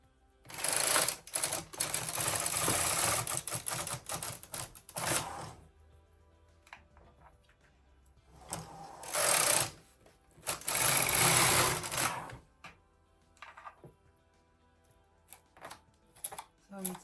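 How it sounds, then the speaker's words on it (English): Bursts of clattering, whirring mechanical rattle as a Brother KH 260 knitting machine carriage with ribber is pushed along the needle bed, several loud passes separated by quieter gaps with small clicks. "now you have to push the stitches on the ribber when you move the carriage from left to right"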